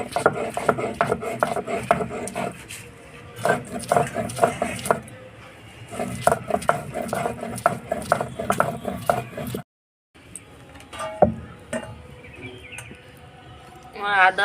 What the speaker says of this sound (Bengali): কাঁচা লঙ্কা রসুন আর আদা একসঙ্গে বেটে নেব